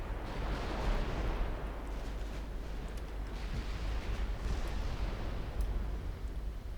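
Heavy naval guns of warships thunder in Ultimate Admiral Dreadnoughts, a dense continuous roll of booming artillery fire with layered rumbling blasts, loud and sustained without pause.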